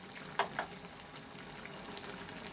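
Chicken rezala masala with black pepper cooks down on high flame, giving a soft continuous bubbling sizzle with two brief spatters near the start.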